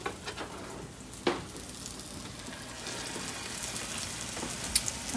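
Filled dough frying on a hot griddle, a soft continuous sizzle with a few sharper pops and crackles, fairly close and alone.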